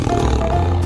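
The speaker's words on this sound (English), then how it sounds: "Tiger." A tiger in an animal video game lets out one brief, rough, low roar that is close and fairly loud, with no speech over it.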